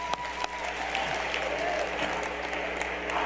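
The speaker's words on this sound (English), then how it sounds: "give them a round of applause" Convention audience applauding, a steady dense patter of many hands clapping with a few sharper claps standing out, filling the room for a few seconds.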